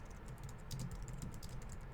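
Fingers type on a computer keyboard at a steady pace, a close run of light clicking key taps with no talking.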